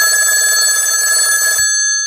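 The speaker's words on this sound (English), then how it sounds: "somebody asked for the old-style telephone." An old-style telephone bell rings loudly and continuously as a sound effect, with a bright, rattling metallic tone that cuts off sharply after about a second and a half, followed by a faint, fading tail.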